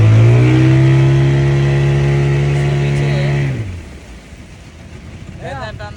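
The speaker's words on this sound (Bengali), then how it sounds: "স্পিড বোট দিয়ে ঘুরতেছি" A loud speedboat engine at Patenga sea beach drones steadily up close, then drops away abruptly, leaving a softer wash of water and wind with faint chatter.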